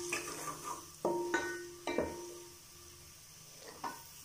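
Spices fry in hot oil in a pan for a home-cooked dinner. A steady low sizzle runs under several sharp metallic clinks and scrapes of a spoon against the pan.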